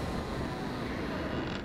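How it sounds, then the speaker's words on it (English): Big stone doors in Dark Souls 3 slowly grind and creak open, a steady low rumbling scrape that lasts throughout the clip under a faint game ambience, with no voices. "Nice, we opened more big doors."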